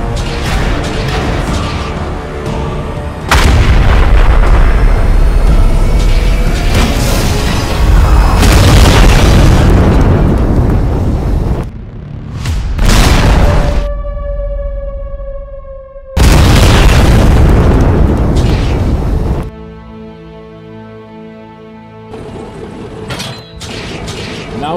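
Animated cartoon tanks fire their cannons in a series of loud, deep booms and explosions, each followed by a long rumbling decay, with ringing mechanical tones in the quieter gaps.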